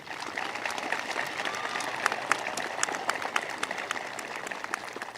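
High school graduation audience applauding in an evening ceremony, a fairly steady crowd clapping with individual sharp claps standing out close by, continuing unbroken for several seconds.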